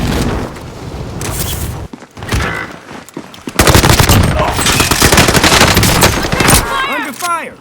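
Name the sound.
gunfire in a video game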